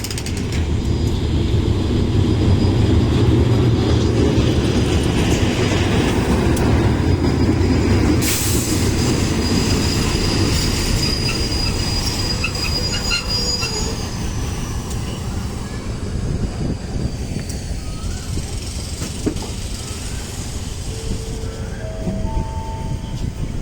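GEA locomotive-hauled ordinary train at Photharam station in Thailand rumbling along, with loud heavy low rolling noise early on, sharp metallic wheel squeals and clanks, and thinner high squeal tones toward the end, without speech.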